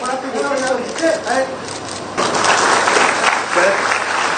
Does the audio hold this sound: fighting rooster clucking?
no